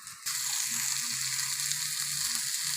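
Green chilies, coriander and curry leaves sautéing in hot oil, a steady close sizzle that starts abruptly after a brief moment and continues evenly throughout, with no talking.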